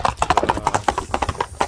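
Hooves of a bay horse clop in a steady, uneven rhythm close by, each strike crisp and distinct over a faint low rumble.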